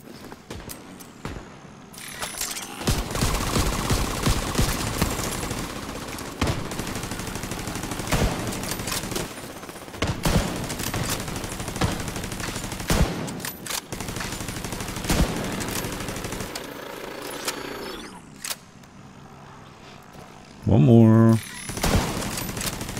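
Gunfire in Tom Clancy's The Division 2, sustained bursts of automatic fire with a few short pauses, close and loud, ending in a sharp electronic chime. Voices talk over parts of it.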